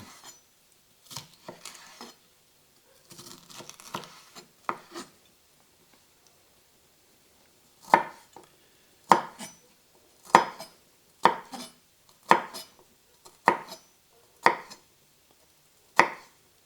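A sharp knife chops red peppers on a cutting board: a few soft scattered cuts at first, then a pause, then a steady series of about eight crisp, evenly spaced chops, close and clear.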